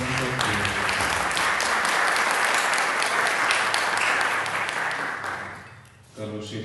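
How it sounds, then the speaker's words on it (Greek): A studio audience gives quiz show contestants a strong burst of applause lasting about five seconds, then it dies away and a voice starts talking. "Με ένα χειροκρότημα παρακαλώ για τις απόψινές μας παίκτριες."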